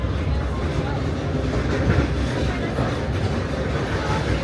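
A steady, loud rolling rumble with faint clacking is heard from aboard the Walt Disney World Railroad steam train as it comes into the station, continuous throughout.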